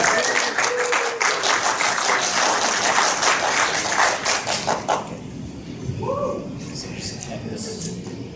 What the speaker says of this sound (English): Raymond, a round of applause